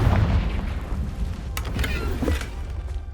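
A Confringo fire spell explodes in Hogwarts Legacy, a booming, rumbling blast with crackling bursts that flare midway, loud and close over a dense low roar that persists throughout.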